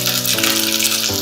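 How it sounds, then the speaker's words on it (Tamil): Dried red chillies and coconut frying in a pan for a Chettinad-style mutton kulambu masala, giving a steady, close, even sizzle with no voices. "இதை நல்லா ஃப்ரை பண்ணிக்கலாம்"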